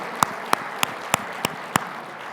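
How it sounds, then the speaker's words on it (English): Seminar participants clap for their partners at a Las Vegas university event, heard as six sharp, evenly spaced claps ringing out over a quiet room rather than a full ovation. "give a huge round of applause to your partner who just shared their opening story with you"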